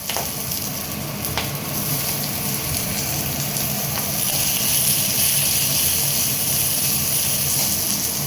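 Onions, green chillies and garlic frying in a pan for a ladyfinger dry curry, a loud, continuous close sizzle with occasional sharper crackles and a steady roar of hot oil throughout.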